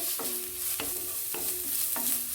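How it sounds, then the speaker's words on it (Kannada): Onions fry in a pan with a constant bright sizzle while a utensil stirs them in four distinct scraping strokes, close and clear, with no talking. "ಇದನ್ನು ಸ್ವಲ್ಪ ಕೆಂಪು ಗೋಲ್ಡನ್ ಬಣ್ಣ ಬರುವವರೆಗೆ ಸ್ವಲ್ಪ ಹುರ್ಕೊಳ್ಳಿ."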